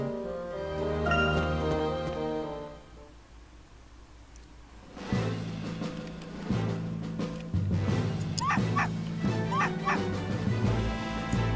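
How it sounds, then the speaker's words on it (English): Dog barking aggressively in Professor Layton vs Phoenix Wright, yips and whimpering barks arriving midway over game music. "That aggressive bark."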